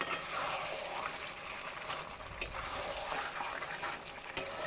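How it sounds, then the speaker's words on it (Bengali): Chicken sautéing with ginger and garam masala paste sizzles steadily in a pan, with faint scraping stirs and occasional clinks of a utensil, fairly quiet and close. "গরম মশলা বাটাটা দিয়ে দিলাম দিয়ে আবারও ভালো করে কষিয়ে নিলাম"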